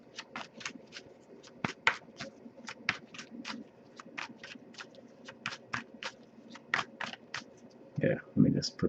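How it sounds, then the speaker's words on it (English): A tarot deck riffled and snapped in a steady run of quick flicks, close up, with a brief voice near the end. "I'll give it a few more shuffles"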